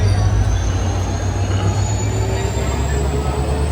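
Train rumble at Madgaon station in Goa, a steady loud low roar of rail cars with a faint high whine running throughout, continuous and close.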